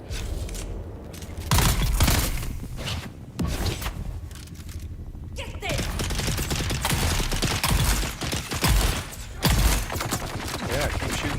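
Enemy gunfire in Dune Awakening, bursts of rapid shots in irregular clusters with brief gaps, fairly close and loud throughout.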